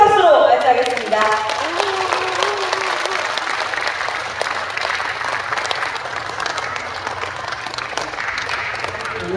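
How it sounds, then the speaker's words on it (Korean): A large audience claps warmly to welcome a poet onto the stage at a book festival lecture, a loud, sustained crowd applause that starts strong with a brief voice at the very beginning and continues evenly to the end. "여러분들 소중한 시간을 더 알차게 채워드릴 김용택 시인분을 큰 박수로 맞이하겠습니다"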